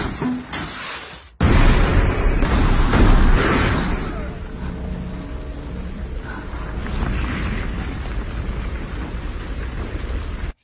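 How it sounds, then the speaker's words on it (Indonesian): A sudden loud RPG rocket blast hits a house, booming and rumbling, followed by falling debris and a long, crackling roar that slowly settles into a steady noisy hiss. "Yang mengakibatkan sebuah ledakan yang cukup besar."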